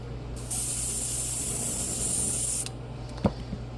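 Paint sprayed onto a fishing crankbait to lay down a bluegill pattern, a close, steady airbrush hiss lasting about two seconds, then a brief click and faint handling noises.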